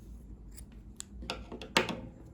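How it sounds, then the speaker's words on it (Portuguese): Scissors snip through crochet yarn in a few quiet, crisp cuts, the sharpest one near the end, set against a soft, quiet background. "Aqui pode cortar o fio"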